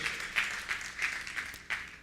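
A church congregation applauding the Lord during a sermon, heard faintly and at a distance: soft, scattered clapping that swells in a few uneven bursts.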